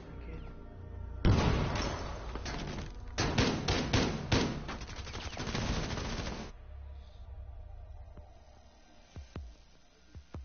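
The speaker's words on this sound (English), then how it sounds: "It's like 40 shots." Rapid automatic gunfire in a Rainbow Six Siege round, a loud run of sharp shots over several seconds, then a few isolated distant pops as things quiet down.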